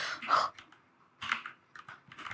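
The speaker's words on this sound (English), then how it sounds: "didn't you watch me typing?" Fingers tap on a computer keyboard in three quick clusters of close, crisp keystrokes separated by short pauses, recorded near the keys during a podcast session.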